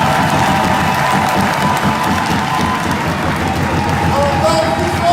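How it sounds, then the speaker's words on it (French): Large crowd at a Congolese opposition political rally applauding and cheering, a loud continuous roar of clapping and shouts filling the whole stretch, with voices mixed in. "Et pour ça, je demande des applaudissements."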